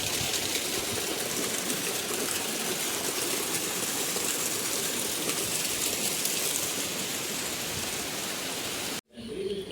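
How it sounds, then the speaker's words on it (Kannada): Heavy rain pours down in a steady, dense hiss that stays even throughout and then cuts off abruptly near the end. "ಈಗ ನೋಡಿದರೆ ಫುಲ್ಲು ಜೋರು ಮಳೆ ಬರ್ತಾ ಉಂಟು."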